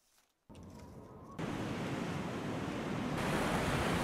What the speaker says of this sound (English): the weather has taken a turn for the worse. It's raining. Winds are force 5 out of the west